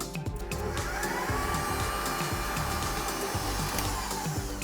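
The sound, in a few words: electric mixer whipping meringue for pavlova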